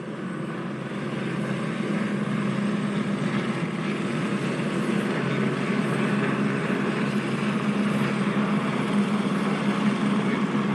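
Police helicopter hovering overhead near a DUI checkpoint, its rotor and engine drone a continuous, even rumble rising in the first second and then holding steady, with no voices.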